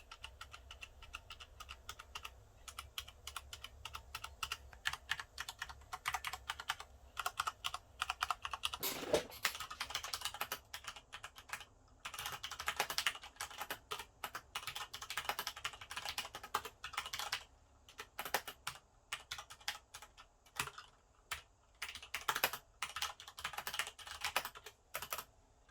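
Rapid, steady typing on a Corsair K70 MK.2 RGB gaming keyboard with Cherry MX Brown switches, dense clacking keystrokes heard up close with no talking.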